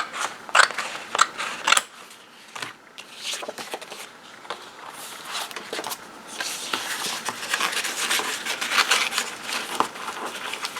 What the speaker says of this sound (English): So I'm just going to go ahead and cut it off right here like so.